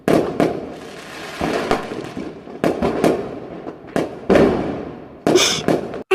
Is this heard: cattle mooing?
no